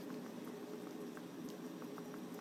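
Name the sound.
shrimp with tofu and mushroom cooking, stirred over medium heat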